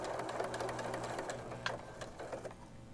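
A domestic sewing machine stitches a seam through a pieced quilt block, a fast, even mechanical chatter of the needle running continuously, fairly quiet and close, with no speech.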